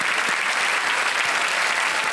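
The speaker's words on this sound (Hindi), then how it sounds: "तालियां बज जाए इनके लिए" Studio audience applause on the Hindi quiz show Kaun Banega Crorepati, a loud, dense and continuous burst of clapping from a large crowd, heard alone without talk.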